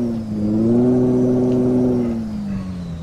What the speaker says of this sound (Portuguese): Fica desquentando o motor, como vocês podem ouvir, o ronco é próprio dele, já vem com mod.